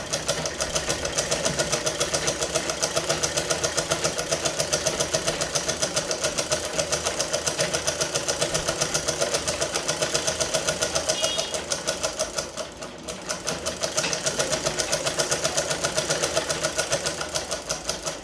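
A sewing machine stitching a pillow cover, running in a steady rapid mechanical rattle close up, with a brief pause near the end before the stitching resumes, no voices.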